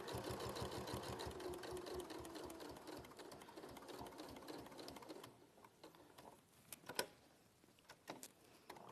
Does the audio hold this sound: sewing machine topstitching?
yes